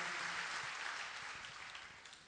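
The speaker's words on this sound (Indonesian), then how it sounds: "Ayo kita tepuk tangan meriah bagi Kristus Yesus Tuhan." A church congregation gives a round of applause in a worship service, a faint, distant wash of many hands clapping that holds steady and slowly tapers off.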